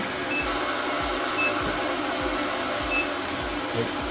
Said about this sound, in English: there's the dryer. It's drying you off with warm air now.